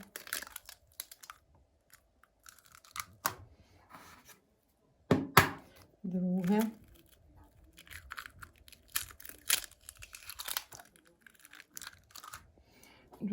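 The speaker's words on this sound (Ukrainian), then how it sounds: "Додаємо яйця. Одне яйце додаємо." An egg cracked one-handed into batter for a lemon cake, a few quiet, sparse taps and clicks followed by a short crackling snap and soft wet sounds in a quiet kitchen.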